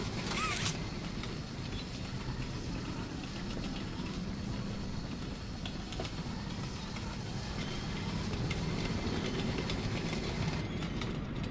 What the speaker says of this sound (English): there's phantom wheel noises